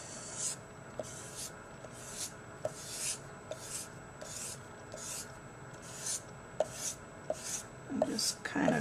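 The chisel tip of a colorless blender marker scratches across paper in short, repeated strokes at a steady rhythm, close up, with a soft hiss under each pass.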